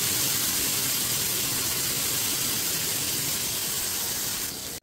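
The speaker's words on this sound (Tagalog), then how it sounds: "Sa pagigisa ay uunahin natin ang sibuyas, susunod naman natin ang bawang" Onion and garlic sautéing in hot oil for a pork belly pochero, with fish sauce going into the pan. A steady, loud broadband sizzle and hiss runs unbroken for the whole stretch, then cuts off abruptly at the very end.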